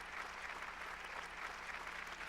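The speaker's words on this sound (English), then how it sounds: "round of applause." A round of applause from a small group sounds as a brief, faint, even patter of clapping with no voices over it.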